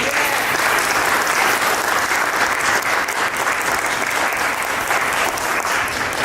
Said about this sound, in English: Can we give a round of applause to our brother, Dr. Obery Hendricks?